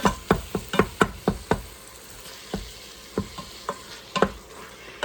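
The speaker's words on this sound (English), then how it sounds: "Continuing to stir, continuing to crumble it up." Ground meat is stirred and broken up with a utensil in an Instant Pot, a quick burst of hard knocks and scrapes against the pot followed by slower, scattered taps over a soft sizzle.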